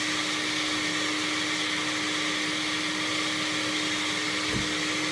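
A blender grinds a breakfast shake in a steady, loud, even whir that never lets up, with one brief low knock near the end and no talking.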